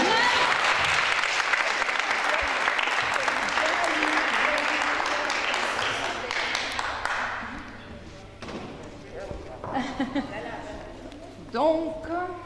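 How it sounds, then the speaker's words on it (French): An audience applauds a theatre troupe after a stage performance, dense sustained clapping that gradually fades out, followed by someone speaking. "je dois remercier la troupe, donc je les applaudis"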